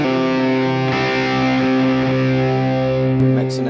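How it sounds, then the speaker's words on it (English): Heavy distorted stereo rhythm guitar played through a Quad Cortex modeler with Archetype Gojira and Archetype Pliny, a loud sustained chord ringing and held throughout, alone with no talk. "stereo heavy rhythm tone featuring both Archetype Gojira and Archetype Pliny"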